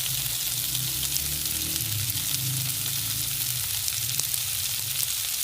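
Sliced onion and long-cut capsicum fry in oil on a tawa, giving a steady, loud, close sizzle that runs without a break.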